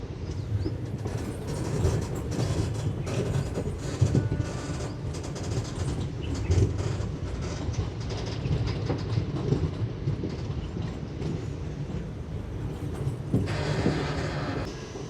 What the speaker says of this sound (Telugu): మన ట్రైన్ బేగంపేట వెళ్ళేటప్పుడు కరువు తీసుకుంటుంది